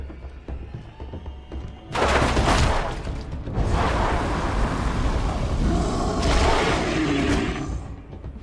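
Video game gunfire set in Xibalba, heavy booming shots that arrive in loud rumbling bursts after a quiet opening and roll on with a thunderous, echoing tail.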